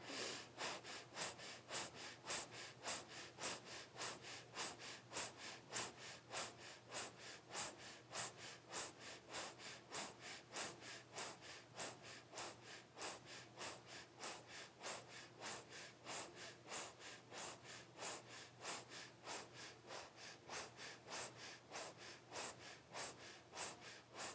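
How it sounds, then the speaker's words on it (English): Rapid, rhythmic breath of fire yoga breathing performed in a wheel pose during a Kundalini practice, sharp nasal exhalations pulsing steadily and evenly at close range for the whole stretch with no talking. "begin your breath of fire here"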